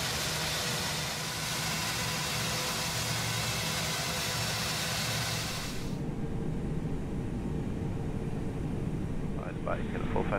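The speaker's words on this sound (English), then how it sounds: "Starting engine 1." Aircraft engine number one starting in the cockpit, with a loud, steady, broadband roar that shifts in tone about midway before faint rising tones appear near the end.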